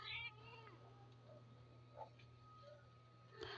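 House cats meowing indoors, faint and somewhat distant, with a short meow at the start and scattered soft mews afterward over a low steady hum.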